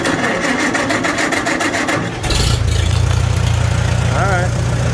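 A Farmall A tractor's 6-volt starter cranks in a steady rhythm for about two seconds, then the engine catches and settles into a loud, rumbling idle close by.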